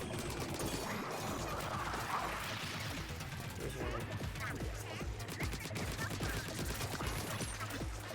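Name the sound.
weapons shooting in Splatoon 3 video game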